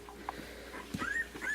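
A two-week-old puppy whimpers up close in short, thin, high squeaks and yips scattered unevenly, soft and intermittent, rising into a few sharper cries near the end.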